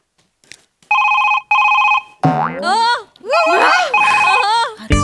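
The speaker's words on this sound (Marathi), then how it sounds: "कुणाचा फोन आहे ग, कुणाचा फोन आहे?" A telephone rings twice in short electronic bursts, then voices talk animatedly over more ringing tones.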